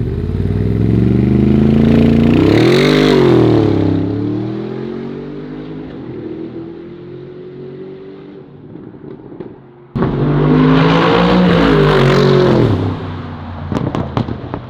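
A powerful Brabus G63 engine roars loudly as the 6,000-plus-pound vehicle accelerates, revs rising and falling through gear changes, with a sharp jump in loudness partway through.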